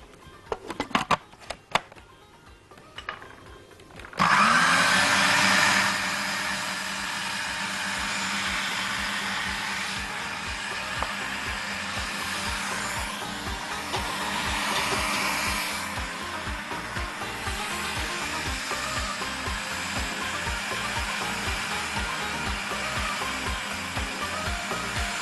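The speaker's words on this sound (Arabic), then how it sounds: "وعندنا كبه وعندنا خلاط فهنتعامل بيه" A kitchen blender whirs loudly and steadily, blending chopped vegetables with a little water for a taro dish; the motor starts after a few seconds of clatter and runs continuously to the end.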